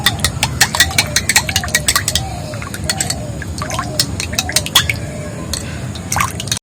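Guava leaf hair paste being stirred together with onion juice, a run of wet, squelching drips and smacks that repeat closely and sit loud and near, with faint background noise.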